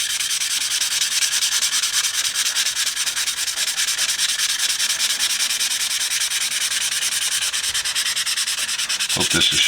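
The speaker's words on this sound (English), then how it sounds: "Now I want to keep sanding in the same direction." Sandpaper is worked steadily across a Zippo lighter shell in one direction, giving a close, continuous rasping hiss with even strokes for the whole stretch and no talking.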